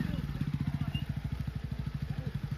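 A tractor engine chugs up close with a steady, rapid throbbing putter that keeps an even rhythm from start to finish, and no one talks over it.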